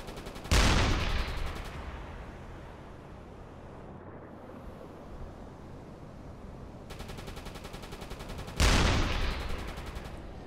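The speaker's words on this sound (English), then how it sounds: "this Corvette seems to be angry and he's firing" A corvette fires on the surface at night in the submarine game UBOAT, with two sharp, loud gunshot bursts that decay into a long rumbling tail, separated by a quieter stretch of wind and sea noise.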